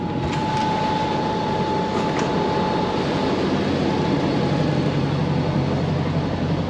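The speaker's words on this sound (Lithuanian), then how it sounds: "Dabar jau šiuolaikiniuose traukiniuose tiesiog viskas tik ūžia, o čia va girdisi per bėgius" Old train wheels clattering over the rails, a steady close rumble and rattle with faint rhythmic clicks, continuous and loud inside the carriage.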